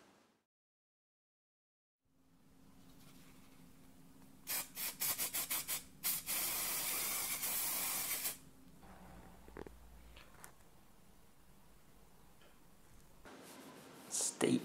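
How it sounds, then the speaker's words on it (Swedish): Aerosol spray paint hits a metal belt buckle close by, first in several short hissing bursts and then in one longer steady spray, with quiet talking before and after. "Eller om det går an å spraye rett på metallet."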